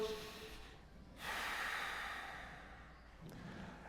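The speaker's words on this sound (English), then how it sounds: "Nasal breathing, right? In through the nose," Slow nasal breathing during a diaphragmatic breathing exercise: a soft, airy inhale through the nose, then a long exhale and another gentle breath, close and quiet with no talking.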